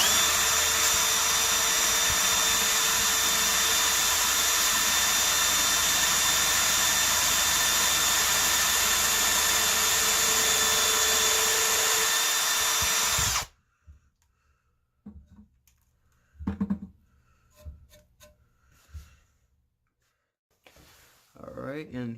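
Milwaukee power drill boring a 1/8 inch hole, a steady loud whine held for about thirteen seconds before cutting off, followed by quiet handling clatter and a few brief noises.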